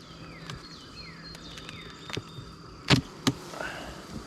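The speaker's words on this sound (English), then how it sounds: "We're gonna take the escape board off." Bees buzz around an opened hive after the escape board is lifted off, a continuous insect drone with individual bees passing close and several loud brief thumps and bumps from handling the hive equipment.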